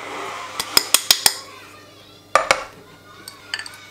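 A spoon clinks against a bowl while mixing chocolate-courgette cake batter with flour, baking powder and a pinch of salt: a quick run of five sharp taps, a pause, then a few more scattered knocks, close and fairly loud.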